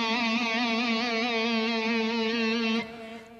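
Held guitar-style keyboard note with vibrato from the modulation wheel pushed up, giving an even, regular wavering over a bright harmonic tone for nearly three seconds before stopping abruptly into a brief decay.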